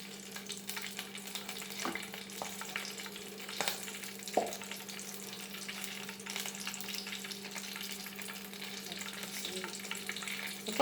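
Onion pakoda batter dropped into hot oil, giving a soft, steady sizzle with a few faint splashes and clinks, fairly quiet and close.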